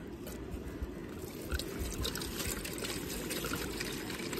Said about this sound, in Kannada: ಈಗ ಇದರಲ್ಲಿ ನೀರು ಹಾಕಿ ಹೇಳ್ತೀನಿ